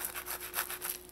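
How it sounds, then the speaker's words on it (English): A knife slices into a crispy, flaky Trinidad meat pie with a beef or chicken filling, giving a close, quiet, repeated crunching and rasping over about a second, with no talking. "I just want to cut into one for you all to see and hear how it sounds. You can hear that, how crispy it is"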